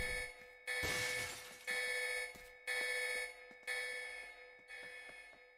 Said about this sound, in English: There's the alarm ringing